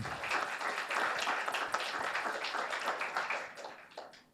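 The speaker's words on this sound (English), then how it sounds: "Please, a round of applause to our panel once more." Seminar audience applauding a panel on infrastructure and resilient growth: a sustained, moderately distant wash of many hands clapping that holds steady, then thins and fades out near the end.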